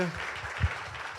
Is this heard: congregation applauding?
yes